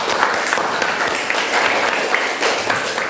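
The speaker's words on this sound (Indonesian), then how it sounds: "Tepuk tangan dulu." A classroom of tenth-grade students applauds their teacher's praise, with dense, steady clapping from many hands filling the room for about three seconds without a break.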